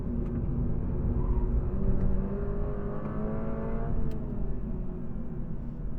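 A race car engine drones steadily while accelerating around a track, with a continuous loud mechanical whine and rising harmonic sweeps as it picks up speed before easing slightly.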